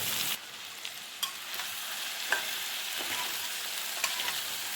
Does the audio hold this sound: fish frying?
yes